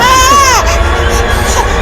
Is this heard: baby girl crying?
yes